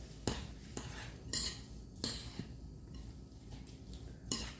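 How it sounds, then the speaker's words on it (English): A utensil clinks and scrapes against a bowl while ingredients are mixed by hand, with irregular close taps and scraping strokes at a moderate level and no talk. "we're just gonna mix it up"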